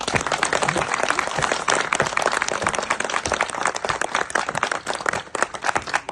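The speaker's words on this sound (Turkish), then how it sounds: "şöyle kocaman yürekten bir alkış alalım" A crowd applauds warmly at the guard-changing ceremony at Ertuğrul Gazi's tomb, many hands clapping in a dense, continuous patter that stays loud and even throughout.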